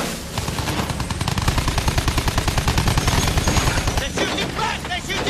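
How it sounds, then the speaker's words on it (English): Rapid, sustained gunfire from the World War I shooter Battlefield 1, loud and close, with dense machine-gun bursts continuing throughout amid battle noise. "They're shooting back! They're shooting back!"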